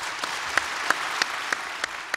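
An audience at a 2018 Chilliwack election debate claps, heard as evenly spaced, fairly crisp claps of modest loudness with no voices.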